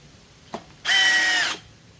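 A Milwaukee M12 FUEL or DeWalt 12V cordless drill in drill mode spins up with a high, steady whine for about half a second, then stops; a faint click comes just before.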